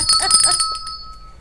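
A small handheld bell rings to open a morning show, giving a few bright, close metallic strikes with a ringing tone that decays over about a second.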